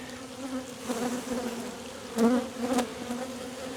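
Honeybees buzz close by around an open hive in a steady hum, with a few louder swells as bees fly near.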